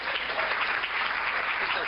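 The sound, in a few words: congregation applause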